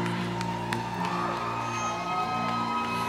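A church congregation applauding and cheering, a dense continuous wash of clapping, whoops and shouts filling the hall, steady and loud throughout with music or held tones underneath.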